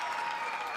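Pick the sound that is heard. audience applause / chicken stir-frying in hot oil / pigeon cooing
audience applause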